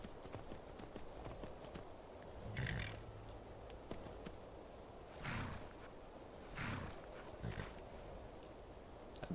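A horse gallops in Skyrim with a rapid, steady clip-clop, broken by several louder bursts that swell and fade over the hoofbeats.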